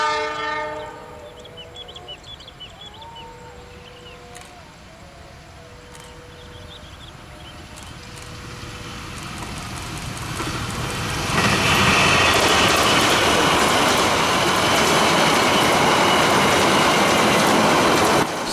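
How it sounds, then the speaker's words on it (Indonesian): A train approaches with a horn sounding several times, then roars past close by in a loud, sustained rumble of wheels and cars, in Indonesia. "Selesai kereta ini lewat,"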